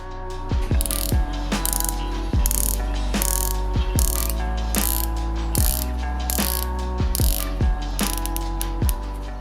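Rotating bezel on a Christopher Ward C60 dive watch turned click by click, sharp crisp ratcheting clicks repeating in quick irregular bursts very close up, with no talk.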